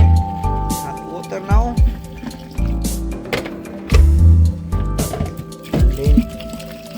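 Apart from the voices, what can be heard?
hot water poured into a coolant expansion tank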